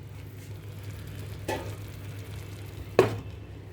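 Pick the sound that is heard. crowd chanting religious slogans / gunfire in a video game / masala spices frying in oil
masala spices frying in oil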